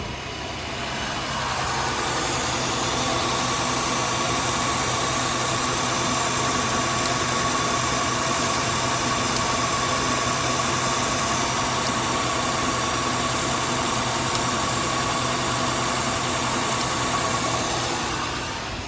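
A 1999 Acura TL engine idles close by in a steady, even low hum that runs unbroken for the whole stretch; no separate click stands out from the drone.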